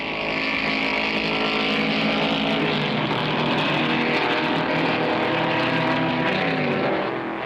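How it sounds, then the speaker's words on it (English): Race cars lapping the Sebring circuit, including Ford GTs, heard as a loud continuous engine roar from a passing field that holds steady throughout. "the leaders begin to lap the slower cars"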